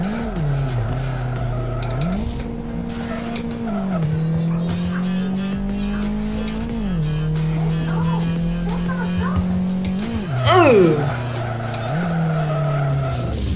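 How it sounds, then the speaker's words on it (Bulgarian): A car in the Live for Speed racing game drifts with a revving engine that rises and falls and sustained tire squeal, loud and continuous, while people talk over the game sound. "Ех, повалих дрифт."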